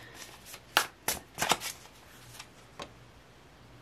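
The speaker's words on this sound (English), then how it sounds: "I just shuffled again" Tarot cards being shuffled up close: a few quick riffling bursts followed by softer scattered taps, with no voices.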